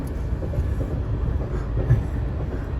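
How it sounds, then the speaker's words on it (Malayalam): A train rolls past, its heavy, steady rumble and wheel clatter filling the whole moment, loud and close, with no voices over it. "ട്രെയിൻ കടന്നു പോയി"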